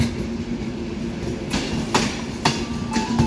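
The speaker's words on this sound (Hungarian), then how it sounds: "A 13. vágányra szerelvényt tolnak." Rail cars are pushed slowly onto a station track in Budapest, with a low, steady rumble broken by regular sharp clacks as the wheels cross rail joints.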